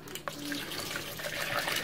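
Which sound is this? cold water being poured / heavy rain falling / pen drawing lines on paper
cold water being poured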